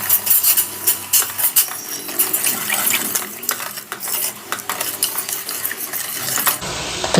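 Sugar stirs into water in a pot, a spoon scraping and clinking against the metal with a soft watery swish, close and fairly loud, repeating in steady strokes before a brief cut at the end.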